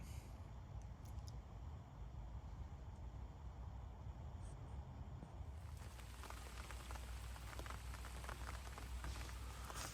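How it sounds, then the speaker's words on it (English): Steady rain falls at midnight, a continuous faint patter on surfaces that grows somewhat denser and crisper halfway through, with no voices. "I've just been woken up by it raining."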